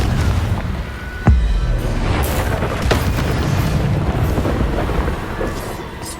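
A Confringo blasting curse explodes in the Hogwarts Legacy video game: a sharp, booming blast followed by a rumbling tail, then further softer crackling impacts over steady low game ambience.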